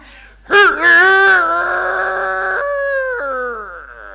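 A voice imitates a rooster's crow, the kind once performed on stage for the play Chantecler: one long, wavering, strained call that rises sharply, holds, then dips and trails off, loud and close.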